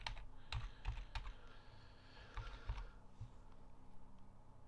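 Rapid bursts of keystrokes as a password is typed on a computer keyboard, several clusters of clicks close up over faint background hum, then a pause.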